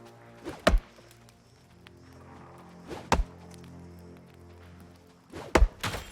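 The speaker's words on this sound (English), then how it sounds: "I don't know how to feel about the mining sound effects, because it's like loud, it sounds like gunshots, but then it's also pretty good sound." Mining in the video game New World: three loud, sharp pickaxe strikes land at regular intervals, each a heavy gunshot-like thunk ringing briefly over a quiet background.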